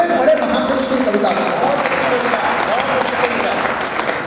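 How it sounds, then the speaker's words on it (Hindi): Hall-wide audience applause at a Hindi kavi sammelan poetry recital, a dense, continuous clatter of clapping at steady loudness for about four seconds, no voices over it. "पूरा सदन मुझे तालियां बजा करके आदेशित करिए"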